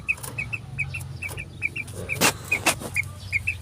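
Chickens and roosters on a poultry farm in summer heat, with repeated short clucks in a steady rhythm and a few louder calls mixed in over a constant farmyard hum.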